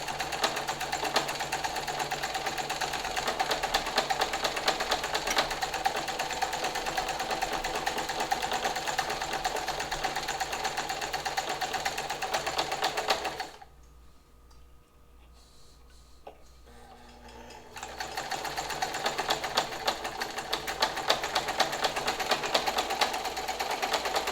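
A restored sewing machine runs a wide zigzag stitch at short stitch length, giving a loud, steady rapid ticking whir that stops briefly midway, then resumes just as evenly.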